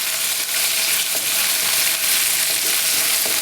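Curry leaves and green chilli pieces fry with onions in a pan, giving a loud, continuous close sizzle, with faint stirring scrapes and no talk.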